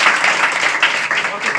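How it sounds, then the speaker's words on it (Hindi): Students give a loud, dense burst of applause in a hall, close and continuous for a moment. "जोरदार ताली।"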